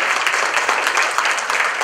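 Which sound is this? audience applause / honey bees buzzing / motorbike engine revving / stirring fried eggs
audience applause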